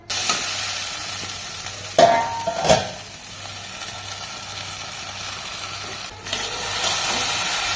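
A spoon stirs a soybean and cauliflower vegetable curry in a sizzling pan, with a steady frying hiss and a few louder scrapes and clanks over several seconds, no voices.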